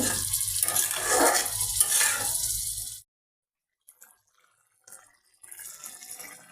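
Meat is fried and stirred in a pan, a loud close sizzle with scraping for about three seconds before cutting to near silence, then faint clinks and a brief return of frying noise.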